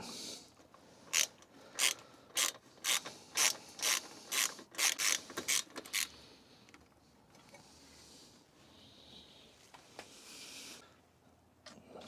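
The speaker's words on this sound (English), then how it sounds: "undo this clamp bolt holding it onto the manifold, slacken it right off." A ratchet slackens a clamp bolt securing the exhaust header pipe to the manifold on a Voge 300 motorcycle, giving a close series of about a dozen sharp, evenly paced clicks, followed by quieter handling noises.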